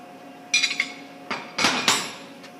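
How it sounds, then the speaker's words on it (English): Metal clinks and sharp taps of a tool snugging nuts onto the knife spindle of a Utica 15-inch knife machine, a few close irregular knocks over a faint steady hum. "and now we're snugging the nuts up."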